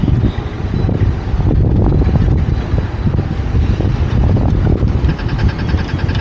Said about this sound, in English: Not fog, we got a lot of wind.